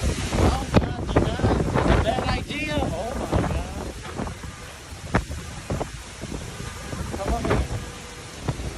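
Storm wind gusts and buffets a microphone during a thunderstorm cell in New York, with rumbling, rain-like noise and scattered knocks, and voices under the roar.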